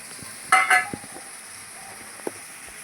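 Khichdi ingredients roasting in a pan, a faint low sizzle with a brief clatter of metal on the pan and a few small taps.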